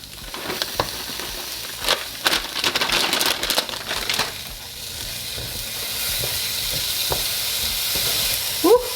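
Frozen peas sizzle and hiss in a hot pan with orzo as a spoon stirs and scrapes through them, a steady close frying sound under irregular stirring clatter.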